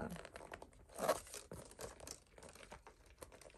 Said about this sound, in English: I guess the dust bag is kind of like getting stuck in the zipper